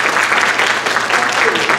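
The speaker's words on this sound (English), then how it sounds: "Ladies and gentlemen, let's give them a round of applause." Applause from the audience at a Granville County Public Schools safety summit for county officials and volunteers, a short burst of steady dense clapping from a crowd filling the room.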